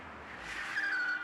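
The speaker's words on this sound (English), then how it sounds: "Three cars drove into an uptown back alley." Several cars roll into an uptown back alley, a steady engine whoosh with a rising, squeal-like tone building toward the end of a single short pass, with no voices.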